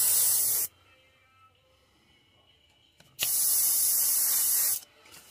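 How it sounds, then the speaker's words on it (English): An airbrush spraying red paint onto a flat-sided crankbait fishing lure, two steady loud hissing bursts separated by a quiet pause, the second longer than the first. "We're gonna spray the red on it."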